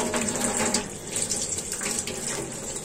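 Running tap water splashes steadily and close by as fresh tilapia fish are rinsed in a kitchen, with the flow shifting slightly as the fish are handled.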